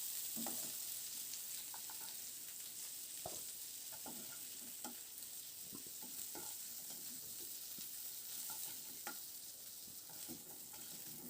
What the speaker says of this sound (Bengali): এবার আলু ফুলকপি আবার খুব ভালো করে কয়েক মিনিট সময় ধরে বেশ করে একটু ভেজে নেব